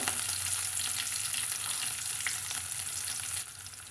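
Sliced shallots and green chillies sizzle loudly in hot oil, a dense continuous crackle that eases slightly near the end.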